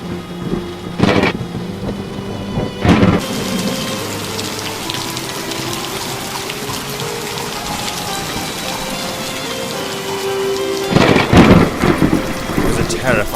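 Steady rain pours through a London thunderstorm, with loud rolls of thunder breaking at the start and again near the end, while muffled voices murmur faintly beneath the downpour.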